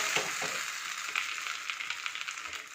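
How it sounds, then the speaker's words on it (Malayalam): Hot tempering poured into coconut and roasted gram chutney sizzles steadily at close range, a constant crackling hiss with small pops and no talking. "താളിച്ചത് ചേർത്ത് കൊടുക്കാൻ പോവുകയാണ്."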